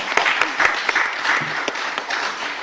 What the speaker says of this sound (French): Applaudissements et encouragements.